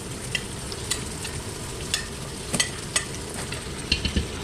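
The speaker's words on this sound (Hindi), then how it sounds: "अपने मसाले को अच्छी तरह भूनें।" Masala of crushed red chili and spices roasting in a pan for karry pakora, a steady sizzle broken by scattered scraping stirs and clinks from a spoon, close and moderately loud with no talking.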